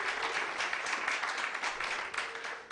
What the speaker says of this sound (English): Can we clap for them as well?